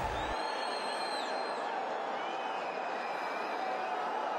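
Broad, steady roar of a big crowd at a packed cricket stadium during an India–Pakistan match, with faint whoops and whistles rising now and then; distant and continuous, with no talk over it.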